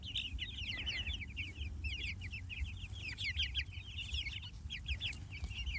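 A flock of meat chickens clucks and chatters close by, with many overlapping short calls forming a continuous busy murmur over low background rumble.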